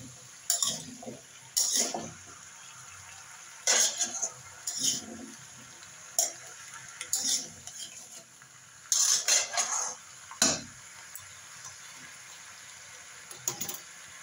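Raw sweet pumpkin sautéed with turmeric powder in a pan: sporadic scrapes and metallic clinks of a spatula, coming in short bursts separated by quiet gaps.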